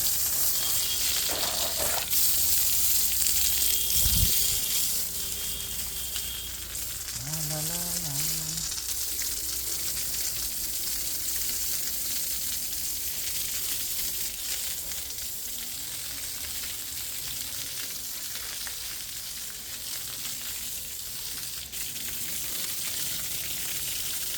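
Water sprayed from a pump-fed hose to wash down a house, a steady broad hiss running throughout at even loudness, with a brief low thump near the start.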